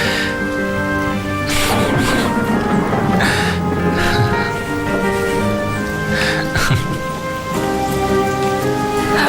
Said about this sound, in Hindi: अरे बारिश हो गई।